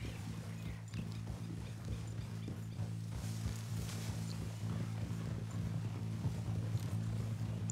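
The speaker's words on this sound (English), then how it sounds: "Oh, que cavalo bonito." A horse walks with steady, repeated hoof clip-clops over a constant low engine-like hum, fairly close and continuous, with no clear talking.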